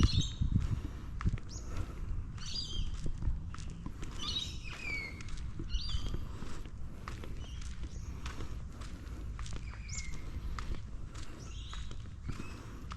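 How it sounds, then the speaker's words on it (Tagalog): Several short bird chirps and whistles ring out outdoors at intervals over a busy low background of footsteps and bustle, the calls moderately clear but not loud. "tunog na ibon tweet tweet"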